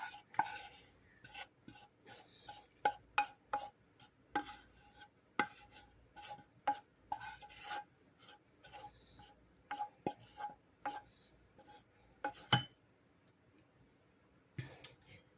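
A wooden utensil scrapes and taps through thick peanut butter fudge in a pan, a string of short rasping strokes and clicks, close and fairly quiet, with no talking.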